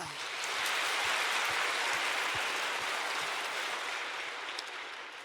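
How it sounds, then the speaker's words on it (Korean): At a Korean church Sunday service, the congregation gives sustained applause in a dense, hissing wash of clapping that holds steady and then eases slightly toward the end. "하나님께 영광의 박수 올려드리겠습니다"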